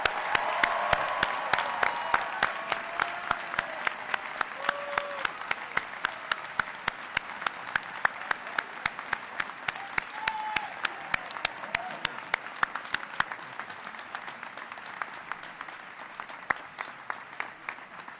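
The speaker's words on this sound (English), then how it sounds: "let's have a round of applause for the entire class of 2010" A crowd at the Darden graduation ceremony applauds the class of 2010, dense sustained clapping filling a large space for about eighteen seconds and tapering slightly toward the end.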